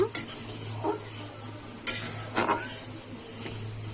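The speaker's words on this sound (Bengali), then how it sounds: "দিয়ে কিন্তু আমি একটু নেড়ে নেব।" A spoon stirs sweetened chana dal in a pot, giving a few separate scraping clinks against the metal over a low steady simmer, close by with no talk.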